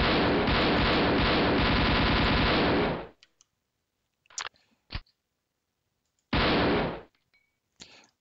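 Automatic gunfire from a Swedish AK5 rifle in the video game Action Quake 2: a loud sustained burst of about three seconds, a few sharp clicks and single shots, then a second shorter burst.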